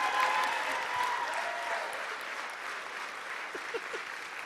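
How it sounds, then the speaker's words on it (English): Comedy club audience at a stand-up show applauding, broad clapping that starts fuller and slowly eases off, with scattered whoops and faint voices beneath. "Can we give a big round of applause for my mom for being such a great sport?"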